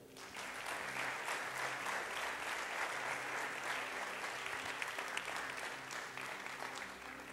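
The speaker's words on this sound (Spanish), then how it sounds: "Denles aplauso a él" A church congregation applauds a preacher during a Christian sermon, sustaining dense, even clapping for several seconds with no voice rising above it.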